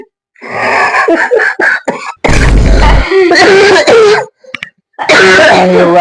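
A man coughs and clears his throat in a rough, close burst in the middle of a rural North Karnataka comedy skit, with strained vocal sounds before and after it.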